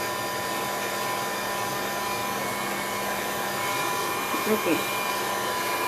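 A hair dryer blows with a steady, close whine while drying a decoupage craft made with a mixed media technique; someone speaks briefly over it near the end.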